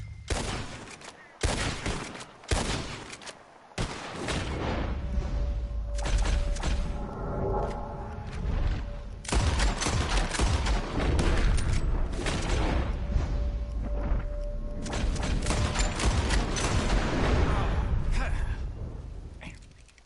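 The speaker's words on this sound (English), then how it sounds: "As soon as you see them, start shooting." A shootout in the video game Red Dead Redemption 2 fills the stretch with repeated loud gunshots, single cracks and overlapping volleys, close and sustained, with voices talking in between.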